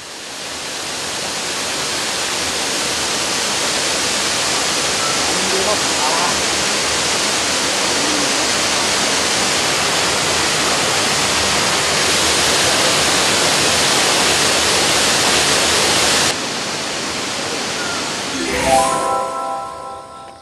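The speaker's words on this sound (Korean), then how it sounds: "돈네코 계곡에서 두 물줄기가 다정하고 시원하게 내리쏟는 원앙폭포를 보며 잠시 땀을 식힙니다." Wonang Waterfall in the Donneko valley sends two streams pouring down, making a loud, steady, unbroken roar of rushing water close by that continues throughout, with a few brief tonal sounds near the end.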